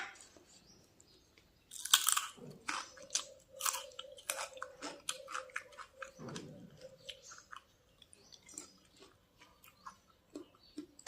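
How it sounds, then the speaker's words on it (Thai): Close mouth sounds of someone chewing pork dipped in chili paste, crisp wet bites and crunches repeating irregularly over several seconds, intimate and quiet with no talking. "มื้อนี้มากินหมูจิ้มน้ำพริกให้พี่น้องได้เบิ่งกันค่ะ"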